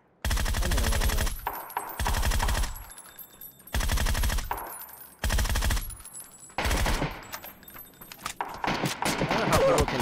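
Gunfire in the battle royale game PUBG, loud automatic bursts with short gaps between volleys, close to the listener and rattling in rapid succession.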